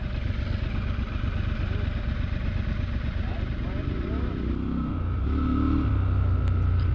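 A Triumph Scrambler 1200 dirt bike engine rumbles and idles steadily nearby, with clattering under the engine and a shifting pitch near the end; a person talks over it.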